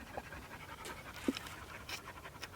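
Dogs pant quietly while resting in the shade on rocks at a desert campsite, soft rhythmic breaths against faint outdoor background with one brief louder sound midway.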